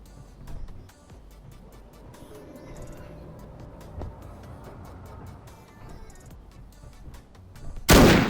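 Gunshot sound effects set off by a stream donation: a scattered run of faint sharp cracks and pops, then one loud blast at the very end.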